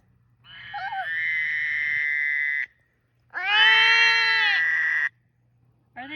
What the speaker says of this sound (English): That's a frog. That is so a frog.